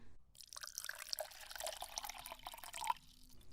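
Water trickles and splashes into a drinking glass, a soft, close pour with small drips and clinks, faint and alone for a few seconds.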